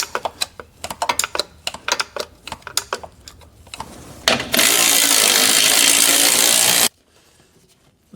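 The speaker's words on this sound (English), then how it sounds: "So right now I'm undoing the bolt that goes between the motor mount and the transmission." A ratchet loosens the motor mount to transmission bolt on a Chevrolet Cruze, with quick irregular clicking bursts up close, then a few seconds of loud continuous whir before it stops abruptly.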